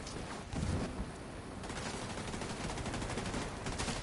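Rapid sustained turret gunfire in the video game Tom Clancy's The Division 2, a steady stream of shots with no pause.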